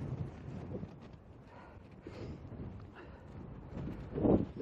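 Gusty gale wind buffeting the microphone on Humphrey Head, a low rumbling roar that rises and falls throughout and swells strongest near the end.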